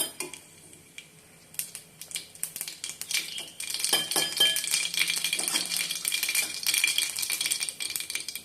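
Mustard seeds crackle and pop in hot groundnut oil, rising from sparse ticks into dense spattering. Close metallic clinks of a pan and spoon mix in, and nobody speaks.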